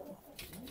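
Pigeons of several kinds kept on a farm during heavy rain give soft, low cooing, a brief close murmur over faint background noise.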